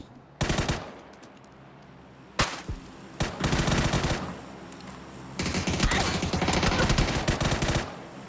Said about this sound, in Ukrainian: Зараз Вікторіуси будуть стрілятися з Маклеєм і командою.